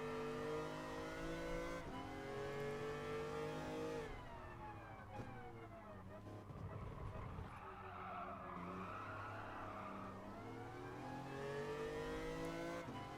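A race car engine in Gran Turismo Sport climbs and drops through the gears, loud and close throughout, with tires squealing mid-lap and no talking.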